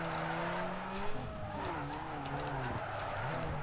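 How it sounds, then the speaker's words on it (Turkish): Car drifting in the racing game Need for Speed Underground 2: shrill tire squeal wavers and bends over a steady engine drone, loud and continuous for the whole stretch. "Rahat rahat drift yapalım."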